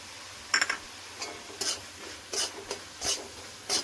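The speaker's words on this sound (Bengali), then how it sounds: "দুধ পাউডার, চিনি, মিষ্টি কুমড়ো সুন্দর করে ভেজে নেব।" Pumpkin frying in a pan with milk powder and sugar, a soft background sizzle broken by several separate scraping strokes of a spatula against the pan, close and fairly quiet.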